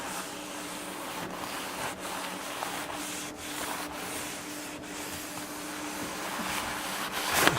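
Towel rubbing cosmoline off the wooden stock of a Mosin Nagant 91/30 rifle, a close, continuous soft rasping scrub with faint repeated strokes over a low background hum.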